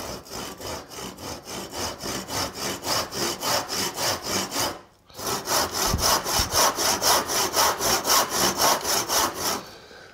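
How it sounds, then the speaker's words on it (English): Handsaw cutting through wood in steady, even strokes, loud and close, about two strokes a second, with a short pause midway before sawing resumes. "Just using my handsaw here to make a few cuts."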